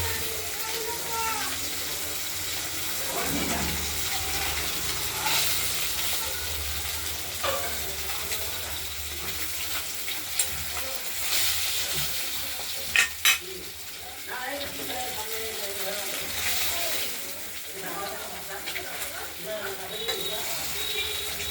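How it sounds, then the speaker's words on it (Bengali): Rohu fish pieces frying in hot oil in a pan, a continuous loud sizzle and crackle with occasional utensil scrapes and clinks, a voice talking faintly beneath. "মাছ ভাজাগুলো হয়ে গেছে, দুদিকটাই ভাজা হয়ে গেছে।"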